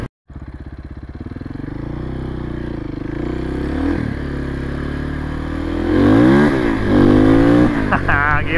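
A four-stroke motorcycle engine running close and loud after a brief silence, holding a steady drone, then revving hard through rising and falling pitch sweeps as it pulls away on wet ground.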